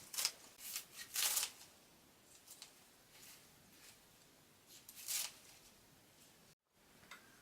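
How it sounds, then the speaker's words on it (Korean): Kitchen scissors snipping a handful of green onions for fresh napa cabbage kimchi. Crisp snips come in quick clusters early on and again around the middle, with quiet gaps between them and no talk. "그냥 가위로다 똑똑 자르겠습니다."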